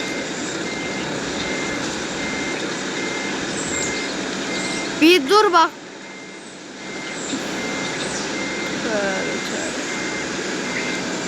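Reversing beeps sound from a city bus in an Istanbul IETT bus-driving video game, a short burst of three or four beeps over steady engine and traffic noise, with someone talking throughout.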